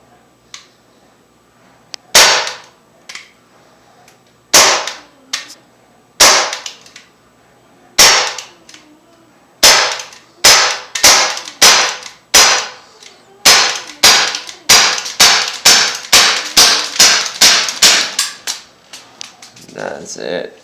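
A BB gun fires into a homemade pellet trap, sharp loud snapping shots close by, slow and spaced at first, then speeding into a rapid string of cracks, each with a brief metallic ring.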